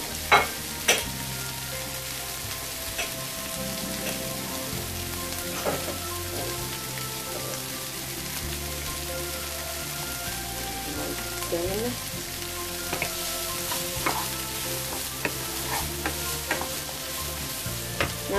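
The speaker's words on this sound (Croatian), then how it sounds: "Znači pržimo od 5 do 10 minuta" Bell peppers fry in a pan with steady crackling sizzle and occasional scrapes and clinks of stirring, heard up close and without talk.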